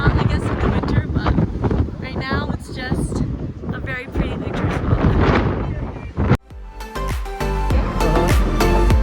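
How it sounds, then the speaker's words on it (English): Strong gusts buffet the microphone at an ocean lookout on Maui, Hawaii, in loud, rough broadband bursts with a voice talking through them, before the wind noise drops to a calmer outdoor background. "it's so windy"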